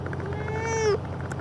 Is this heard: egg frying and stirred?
no